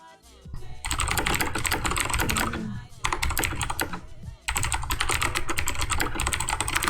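Fast, continuous typing on a computer keyboard in an architecture modeling session, dense clicky keystrokes in several long bursts with brief pauses, close and loud under a voice.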